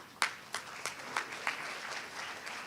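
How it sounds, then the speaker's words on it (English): Light, scattered clapping from a small group at a financial planning event, a handful of distinct claps at first blending into a soft, thin patter. "Clap to all of them."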